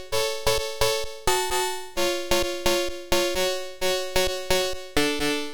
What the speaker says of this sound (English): This is the chord progression I came up with.